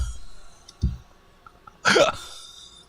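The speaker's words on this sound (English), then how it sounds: "Ew, why did I burp?" A single short, close burp erupts after a couple of faint low bumps, fairly loud and rough, with no talking over it.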